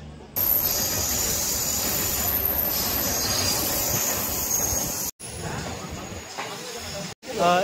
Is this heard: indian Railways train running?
yes